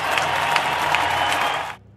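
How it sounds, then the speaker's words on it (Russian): An audience claps in a brief burst of steady, dense applause that cuts off abruptly. "Под ваши аплодисменты."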